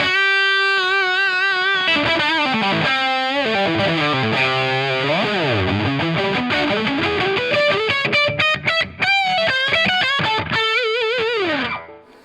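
Electric guitar played through a Marshall JCM 800 amplifier with heavy distortion, loud sustained chords and bending notes ringing continuously before a final chord cuts off.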